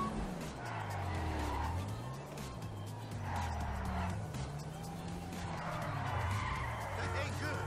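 Car tires skid and squeal in GTA V during a bank heist getaway, a sustained wavering screech over a steady engine drone that swells and dips, with voices talking over it.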